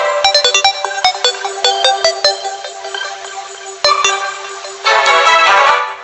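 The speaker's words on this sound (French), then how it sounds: "la délicieuse musique de Terraria. Écoutez ça" Terraria video game music, a bright plucked melody with rapid percussive notes building into a denser, fuller passage, clear and steady with no voices.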